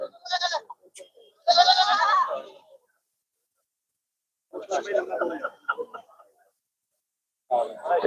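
Barbari goats bleating in bursts at a goat show ring, loud and close, several calls separated by pauses.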